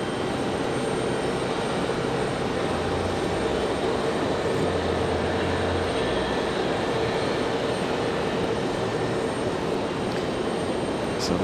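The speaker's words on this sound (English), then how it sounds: "we've got another one of the Cessnas, the Cessna Caravans coming up" A Cessna Caravan at Raleigh-Durham airport gives off a faint, steady engine drone, low and distant, running unbroken beneath the general airport ambience with no voices.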